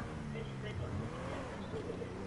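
A steady engine drone of a slow car in GTA on PS5 runs throughout at moderate level beneath ongoing talk.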